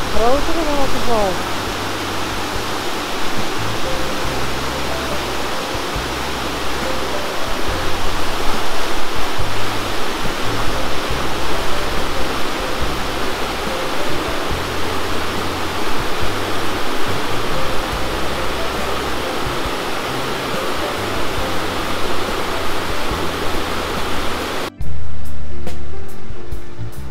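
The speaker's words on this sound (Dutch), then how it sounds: "En dan hebben we een wat grotere waterval." A larger waterfall in a park in Alicante gives off a steady, loud broadband rush of falling water that holds nearly constant for the whole stretch, with other low background sounds mixed in.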